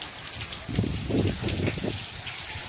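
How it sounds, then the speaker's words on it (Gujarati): Heavy rain falls on a Gujarat village, a dense steady hiss and patter that swells slightly midway, close by and continuous, with no voices. "વરસાદ આજ વધારે વધી ગયો છે"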